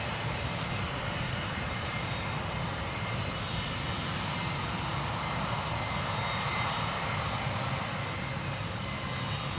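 A KLM Embraer E190-E2 at a runway entry point gives off a steady, broad jet engine roar that holds at an even, fairly distant level throughout, with no talk.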